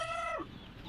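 Native chickens cluck and call close by in a short, loud burst that trails off into rustling background noise.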